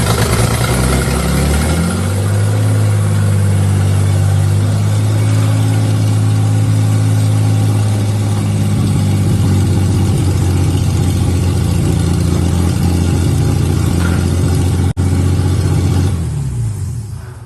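Dodge Power Wagon rolling chassis with no body, running and driving for the first time, engine rumbling at a steady mid-pitched drone with slight rev changes, loud and close before cutting off near the end.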